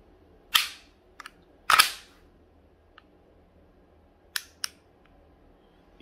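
Dry-fired trigger of a WE Galaxy G Series airsoft pistol, a few sharp mechanical clicks and snaps spaced apart, close and fairly crisp with quiet gaps in between.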